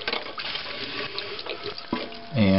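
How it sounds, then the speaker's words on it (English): Water rushes into a toilet tank as it refills during a running-toilet repair, a close, hissing flow that ends in a rising whistle from the fill valve. "And more water will fill,"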